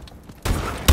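Two heavy gunshots from Call of Duty: Advanced Warfare land after a quiet moment, the first a sustained blast and the second a short, punchy crack, both loud and close with no voices.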